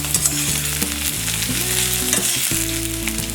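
Potatoes fry on a high flame with a loud, continuous sizzle and crackle, close up, with steady background hum and occasional stirring, no voices.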